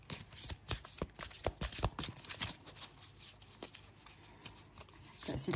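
A deck of oracle cards being shuffled by hand up close, a busy run of crisp riffling snaps and slaps, quiet overall, with faint speech in the background.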